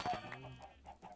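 Chickens cluck in a few short, soft bursts, fairly faint and close by against a quiet background.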